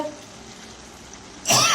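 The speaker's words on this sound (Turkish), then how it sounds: "Ağladı, öksürük tuttu." A cook coughs while chopping capsicum peppers for a meat and mushroom sauté: after a stretch of near quiet, a single loud, harsh cough or throat-clearing bursts out close by at the very end.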